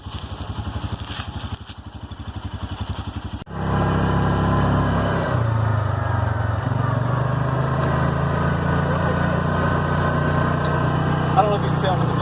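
A Massimo MSU 500 utility vehicle's engine idles, then revs up and settles into a steady running drone as the ride begins, loud and close.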